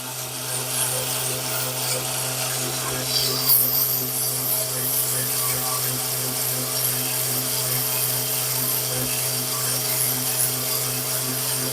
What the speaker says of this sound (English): Now I'm bringing in the finer sandpaper just to finish it off.